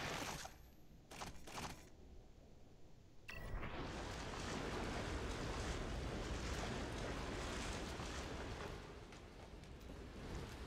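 Water in The Evil Within game rushes and roars continuously, loud, steady surf-like wash after a brief quieter opening, with no voices.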